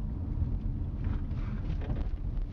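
Steady wind rumbles and buffets against the microphone during a cycling race at Épaumesnil, Somme, a low continuous roar with no voices.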